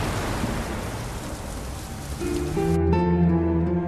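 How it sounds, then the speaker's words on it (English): Steady rain hisses and rushes loudly, like a stormy downpour, before music fades in over it toward the end. "It is windy and rainy."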